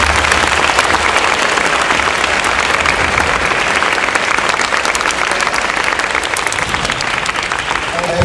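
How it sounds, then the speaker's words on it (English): A big round of applause from the audience at a school awards night, loud dense clapping that goes on throughout, with crowd noise mixed in. "Give them a huge round of applause."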